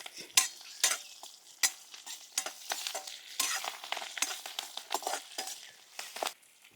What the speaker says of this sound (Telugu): ఇప్పుడు తాలింపులు వేసుకుంటున్నాను.